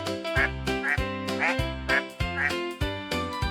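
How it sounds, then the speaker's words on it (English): A cartoon duck in a children's animal-learning show quacks in a steady run of about six loud, nasal calls, evenly spaced roughly half a second apart, close and clear with no talking over them. "What's that sound? Look, a duck."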